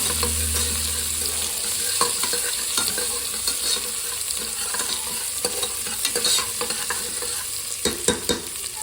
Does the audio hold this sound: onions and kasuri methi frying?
yes